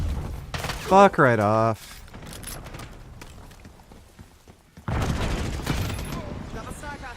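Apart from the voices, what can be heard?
gunfire in a video game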